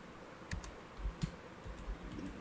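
A few quiet, scattered clicks of keys being typed on a computer keyboard, near but faint, with no one talking.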